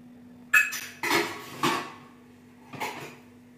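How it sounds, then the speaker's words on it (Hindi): A metal frying pan with oil, used for shallow frying eggs, clanks and knocks against a stovetop or utensils in four distinct, fairly loud hits, the last a lighter rattle, with quiet gaps between. "यहाँ पर मैंने एक पैन लिया है एंड उसमें मैंने थोड़ा सा ऑयल डाल दिया।"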